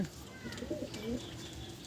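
Several Andhra pigeons coo softly nearby in a breeding loft in low, throaty murmurs, with faint chirps and a quiet background hum.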